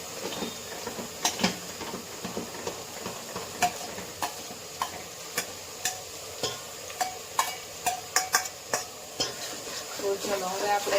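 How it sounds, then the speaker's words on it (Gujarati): Finely chopped tomatoes go into a hot pan and are stirred, a spoon scraping and knocking against the pan in sharp irregular strokes over a soft, steady sizzle close by. "હવે એમાં આપણે નાખી દઈશું ટામેટા, જેને ઝીણા ઝીણા કટ કરી લીધા છે"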